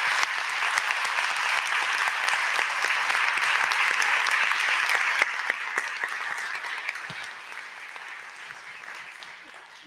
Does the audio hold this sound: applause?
yes